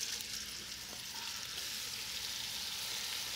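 Beef browning in a hot pan for goulash, a faint, steady hiss of sizzling fat that stays even throughout, quiet and unbroken by talk.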